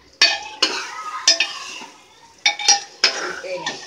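Rice being stir-fried with spices in a pressure cooker for a vegetable pulao: repeated scraping, stirring strokes of a spoon against the metal pot with light sizzling, in irregular bursts about every half second to second, close and clear, no talk.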